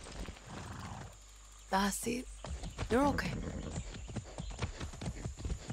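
Hooves clip-clop steadily from a horse ridden in Far Cry 6, with sharp whinnies and neighs rising over the gait, while someone speaks briefly over the action.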